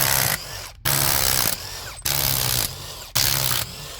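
A power tool removing 15 mm bolts from a vehicle transfer case, four loud whirring bursts with short pauses between them, close up with no talking.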